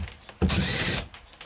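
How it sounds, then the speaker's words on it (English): A cordless drill fitted with a plug cutter, used freehand on wood: a single loud, close burst of whirring and cutting lasting about half a second, starting abruptly and stopping sharply. "You'll find your drill moves all over the place."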